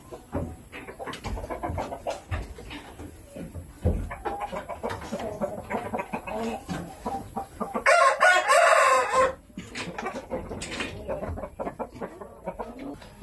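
Chickens cluck steadily throughout, and a loud rooster crow rings out partway through before the clucking carries on.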